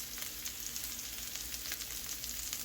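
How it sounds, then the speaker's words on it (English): Pork chops frying in an electric skillet set to about 275 to 300 degrees, giving a steady, close hiss of sizzling fat with small pops throughout, and no voices. "put the pork chops back in there on the electric skillet on about 275, 300"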